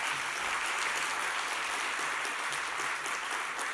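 An audience applauds after a lecture: steady, even clapping from a crowd that fills the whole stretch at moderate loudness, with no voices over it.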